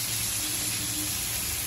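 Bois fish fries on its second side in a pan over medium heat, giving a steady, close, hissing sizzle that holds evenly throughout with no talk.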